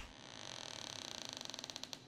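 A door creaks open as a tabletop RPG sound effect, one long, drawn-out creak that slows into a ratcheting series of distinct clicks, quiet but close and isolated.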